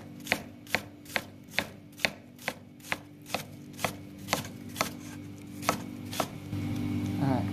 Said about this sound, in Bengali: এখানে আমার লাল পেঁয়াজটা আমি কেটে নিয়েছি